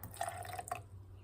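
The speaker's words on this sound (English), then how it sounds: "And now I'm gonna pour a little more water in there." Water is poured into a whipped coffee mixture, giving a few soft trickling splashes with light dripping over a low background hum, after which it quickly trails off.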